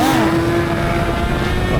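A Suzuki GSX-8R motorcycle pulls away hard, its engine note climbing steadily and loud and close, with a brief voice near the start.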